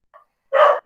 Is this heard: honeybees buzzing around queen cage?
no